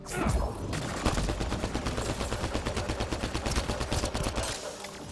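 Sustained automatic gunfire in Mass Effect: Andromeda, a loud rapid stream of shots rattling close and continuously through most of the span, easing off at the end.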